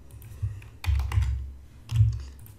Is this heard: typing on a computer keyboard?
yes